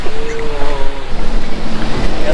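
A speedboat races over the waves at Khor Fakkan, Sharjah, with a loud, continuous rush of wind, water and engine noise that buffets the microphone close by.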